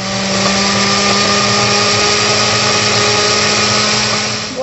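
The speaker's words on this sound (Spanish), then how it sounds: "Y agregamos el chile a la licuadora" A blender runs at a loud, steady whir, blending chile for salsa, and its droning motor holds an even pitch throughout.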